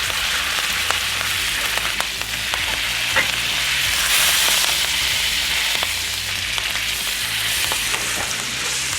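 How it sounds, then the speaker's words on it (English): A steak's edges searing in a hot pan make a loud, continuous close-up sizzle, dotted with sharp crackles and pops for the whole stretch. "You want to sear the edges as well."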